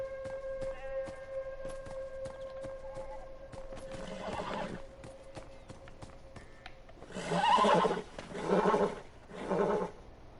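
A horse in a video game whinnies in drawn-out, wavering neighs, followed by three louder bursts of snorting and neighing, with clopping and ambient background sound.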